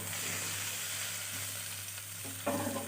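A pan of chicken stew sizzling steadily and close by, with a sharper burst toward the end where water goes in, and no talking.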